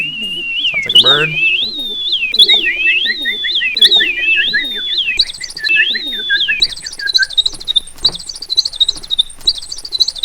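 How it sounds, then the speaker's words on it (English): High, warbling whistled tones that chirp and slide up and down in quick bursts, sounding much like a bird singing, with no voices. "whistles can sound really nice when they're repitched"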